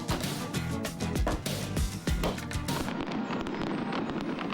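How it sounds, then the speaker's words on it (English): Fireworks show after a Nationals at Cubs baseball game on a summer night, with dense rapid crackling bursts and booming thuds layered over one another, loud and continuous, thinning to scattered crackles toward the end. "Cue the fireworks."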